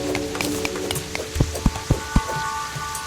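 Rain falls steadily in a video game, a constant hiss under a sustained musical tone, with several sharp drop-like taps and low thuds in the middle.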